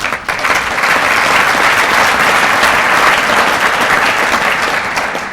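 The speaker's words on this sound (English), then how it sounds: "I think they deserve a round of applause also" Sustained, loud crowd applause from an audience at a 2002 Shrine Game event, a dense steady wash of clapping for the coaches lasting throughout with no talk over it.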